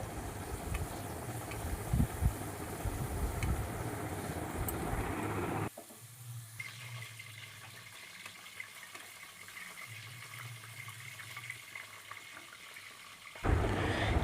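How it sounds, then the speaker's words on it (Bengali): Potatoes frying in a pan for a bitter gourd malaikari, a steady loud hiss and sizzle that drops abruptly to a quieter simmer partway through, then surges back near the end, with no talking. "আলুটাকেও বেশ ভালো করে একটু ভেজে নিচ্ছি"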